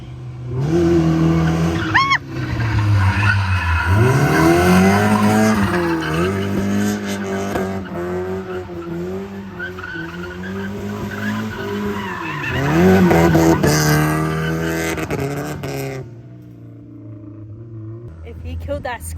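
A car engine revs hard with squealing, skidding tires rising and falling in pitch, loud and close, with people talking over it.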